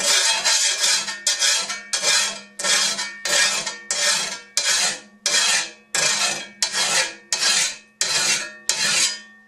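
A shovel blade is sharpened during spring maintenance with a file worked in about a dozen long, even rasping strokes, each a loud scrape with a short gap before the next, close up with no voices.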